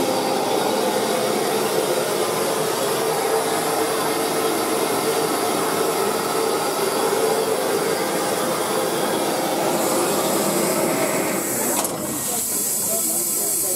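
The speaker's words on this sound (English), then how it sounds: "It's only a lovely loco." Southern Railway steam locomotive 34052 Lord Dowding, hauling the Welsh Marches Express, releases a loud, continuous hiss of steam at Cardiff Central station, which shifts slightly near the end.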